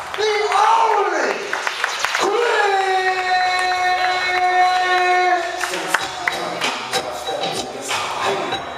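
Club crowd at a live show cheering and clapping loudly, with whoops, shouts and scattered claps spread across the room under a steady roar.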